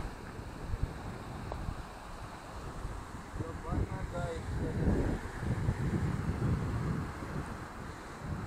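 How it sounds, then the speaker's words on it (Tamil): Strong wind blows outdoors near Thirumoorthy temple in Pollachi, a steady low roar buffeting the microphone throughout, with a brief voice heard partway through. "காற்று நல்லா வீசுதுல்ல"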